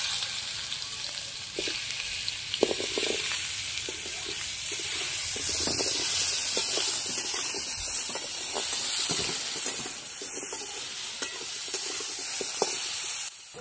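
Mashed hog plum (amra) sizzling steadily in hot oil with five-spice for a chutney, a continuous close frying hiss with scattered crackles and spoon scrapes throughout, no voices.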